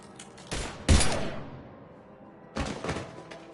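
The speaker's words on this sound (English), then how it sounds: "Now open fire!" Gunfire in the video game Mass Effect 3 comes as a couple of loud, booming bursts of shots, each decaying into a rumbling tail, with a quieter gap between them.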